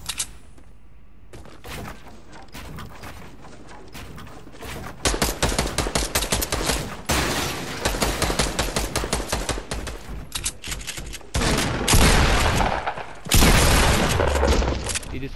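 Bursts of rapid gunfire in a Fortnite Battle Royale match crackle in loud clusters, with near shots and quick volleys separated by brief pauses, while a player talks over the action.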